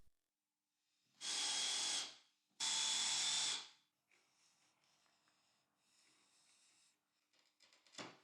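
A 22 mm spade bit drills into plywood in two short bursts, each a loud whirring drone lasting about a second, followed by quieter handling clatter and shuffling, with no voices.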